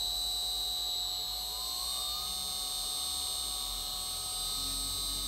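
A Shapeoko 3 CNC router's 2.2 kW spindle spins at high RPM inside an enclosure, giving a steady, even high-pitched whine with a low hum beneath, unbroken throughout.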